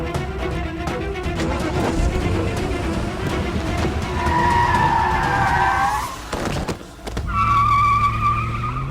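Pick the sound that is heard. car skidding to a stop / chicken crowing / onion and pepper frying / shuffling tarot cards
car skidding to a stop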